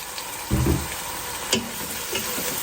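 Chopped tomatoes and green chilies fry in hot oil for chicken biryani gravy, a close steady sizzle with a couple of louder bursts as they hit the pan and get stirred.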